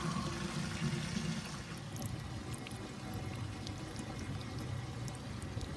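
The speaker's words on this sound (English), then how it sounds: "It's actually leaking loads all over." Water trickles and pours steadily out of a leaking whiskey barrel used as an ice bath, a continuous faint splashing wash with no talk over it.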